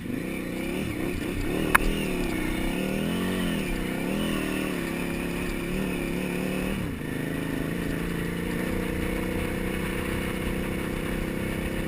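A motorcycle engine drones steadily while riding, its pitch rising and falling with throttle changes, with one brief sharp click near the start.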